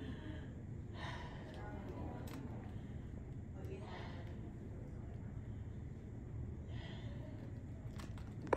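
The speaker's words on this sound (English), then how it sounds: "deep breaths in and out" A patient takes a few slow, deep breaths in and out during a lung exam. Each breath is a soft, airy rush spaced several seconds apart, close by, over a steady low background hum.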